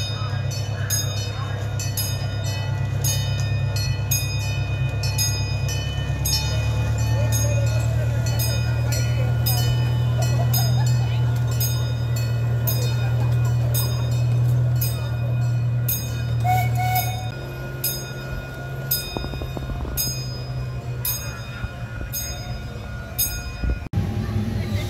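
Amusement park train ride at Land of Make-Believe, with steady low rumbling of wheels and rail running throughout, a continuous loud hum that eases near the end, and faint voices under it.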